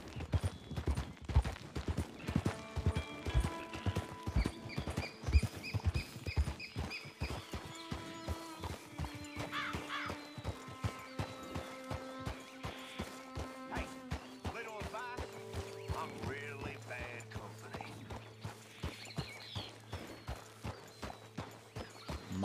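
Horse hooves clip-clop in a steady, even rhythm throughout a Red Dead Online ride, moderately close, with soft game music tones layered underneath and no talk.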